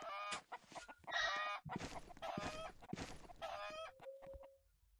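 Chickens cluck and squawk in Roblox Skyblock, a run of loud, close, rhythmic clucking bursts one after another, ending in a short honk-like call, with no talk over them.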